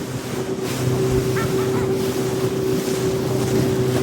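A speedboat runs on the backwater at Thanneermukkom bund, its engine droning steadily with loud wind and water rush throughout as the hull slaps over waves.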